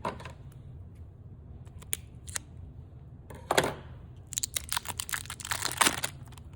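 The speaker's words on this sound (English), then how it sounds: "You might need some scissors or something sharp." Scissors snip and crinkle through plastic packaging on a Canon Pixma iX6820 printer up close, in a few short cuts, then a quicker burst of crackling snips.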